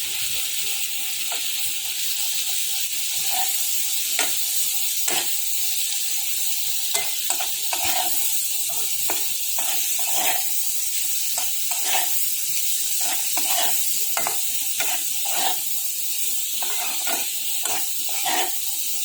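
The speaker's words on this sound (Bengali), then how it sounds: "সব কিছু দিয়ে আরও ভালো করে রসুন পেঁয়াজ ভাজবো" Garlic and onion frying in a pan, a steady close sizzle with frequent stirring scrapes and clinks throughout, no talking.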